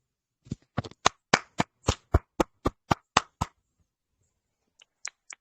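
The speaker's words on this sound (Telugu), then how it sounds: "ఒకసారి మనం గట్టిగా చప్పట్లు కొడదాం సార్" Around a dozen sharp, loud hand claps in a quick uneven rhythm from a small audience at a presentation. They stop suddenly, and three faint, scattered claps follow after a short silence.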